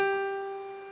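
A single piano note held with the sustain pedal, ringing clearly on its own and slowly fading without being cut off.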